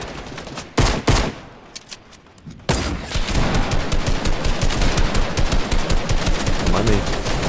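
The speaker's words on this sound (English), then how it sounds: "I'm gonna kill you with a pistol!" Rapid gunfire in a Fortnite Team Rumble match, a few isolated loud shots at first, then a sustained dense rattle of repeated bursts, close and loud with no pause.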